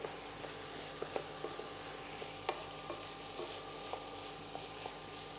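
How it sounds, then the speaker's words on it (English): Rice sizzling and being stirred in a hot pan while making risotto in a cooking class, a steady low frying hiss with faint scattered taps of a spoon, heard alone without talk. "All right, pop your rice in, everybody."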